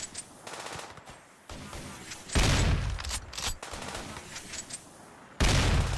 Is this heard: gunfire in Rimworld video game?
yes